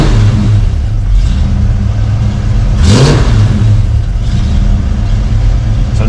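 A car with a Holley Sniper 2 EFI and Silversport transmission revs once sharply mid-clip, rising and falling over a steady loud idle, no talk.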